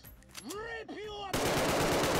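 Automatic weapon fire in Arktika.1 breaks out as a dense, loud, continuous burst of shots after a stretch of electronic sweeping tones, close and steady until the end.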